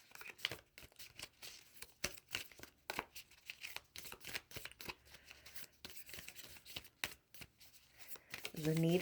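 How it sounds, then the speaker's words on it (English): Tarot cards being shuffled and pulled, rapid papery riffles and flicks in quick bursts close to the mic, fairly quiet, with a voice speaking softly over them. "Let's pull one more card."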